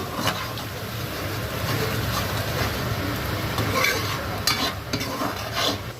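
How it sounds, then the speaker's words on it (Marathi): Halved boiled eggs are turned and stirred in hot oil in a pan, a steady low sizzle with scraping strokes throughout and a few brief clinks. "मी तेलामध्ये टाकून त्याला फ्राय करते।"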